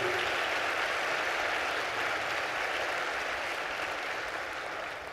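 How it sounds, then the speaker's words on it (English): An audience at a town hall event gives a sustained round of applause for elected officials, dense, even clapping from a large crowd that holds steady and fades slightly at the end. "give them a great big round of applause"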